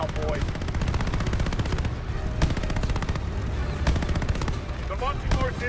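Rapid gunfire in Call of Duty: Vanguard, a dense run of loud machine-gun bursts and shots with brief gaps, layered with combat noise and brief voice fragments.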